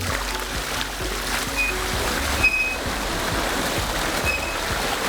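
Water drains off flooded rice fields through farm water control structures once the boards are pulled, a continuous rushing, gurgling flow close by with faint irregular knocks underneath.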